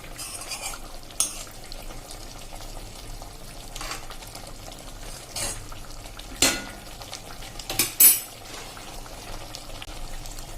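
A spoon stirs papad curry in a pan, giving a few soft scraping strokes spaced a second or two apart, with the two loudest near the end, over a quiet, steady kitchen background.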